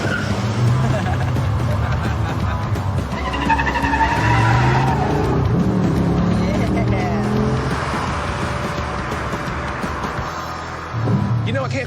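Porsche 911 tires skidding and squealing on a street test drive, a loud, sustained screech blended with engine roar that runs nearly the whole stretch before easing near the end, with voices faintly beneath.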